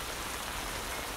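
Steady rain falls outdoors on a cold day, a dense, even hiss of drops spreading across the whole range, constant in level and heard alone with no voices.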